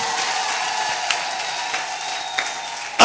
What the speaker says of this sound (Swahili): Pigia Yesu makofi mazuri